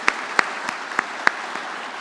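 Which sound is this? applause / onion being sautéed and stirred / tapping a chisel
applause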